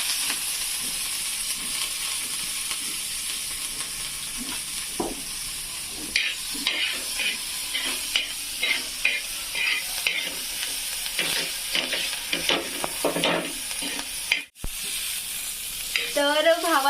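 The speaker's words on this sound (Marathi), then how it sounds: "अशा मिरच्या तव्यावर टाकल्यानंतर मीठ टाकून" Green chillies sizzle and crackle with oil and salt on a hot griddle, with repeated scraping and stirring clicks throughout and a brief pause near the end.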